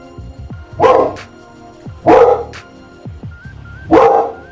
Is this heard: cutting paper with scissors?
no